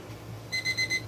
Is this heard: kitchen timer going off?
yes